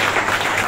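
Applause from a crowd at a religious gathering and sermon, a brief dense wash of many hands clapping together, fairly loud and steady over its short span.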